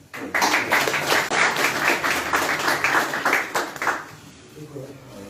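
Audience applause at a conference-debate on Morocco's development model, a dense burst of clapping from many hands that holds steady for about four seconds, then fades out into quiet room tone.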